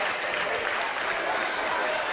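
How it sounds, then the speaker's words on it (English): Steady applause from a basketball crowd at a college game between the NU Miners and Rocklin Thunder, continuous and fairly loud as the starters leave the court, with no break in the clapping. "both teams will bring their starters off the court to applause"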